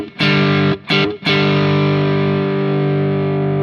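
Guitar played through an effects pedal underpowered at 6 volts from an MXR Iso-Brick supply, giving a thin, slightly distorted tone; a few quick strummed chords, then one chord rings and sustains loudly to the end.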